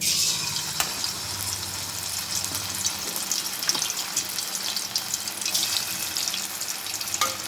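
Chicken 65 pieces frying in hot oil on a stove, giving a steady, close hiss and crackle of sizzling oil throughout, with a few brief clinks and pops and no voice.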